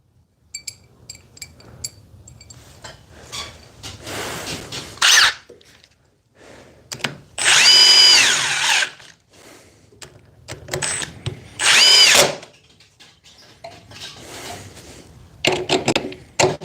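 A Dewalt oscillating multi-tool cuts in two loud, close buzzing bursts of about a second and a half each, with quieter handling knocks and short noises between them and no talking.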